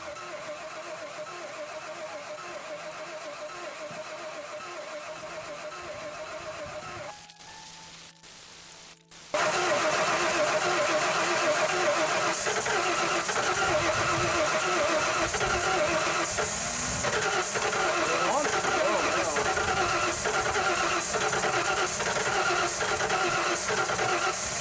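A vehicle engine cranks and struggles to start in below-zero cold with the gas pedal floored, a long loud whirring crank that stops briefly, then resumes harsher and steadier, close by, with no speech.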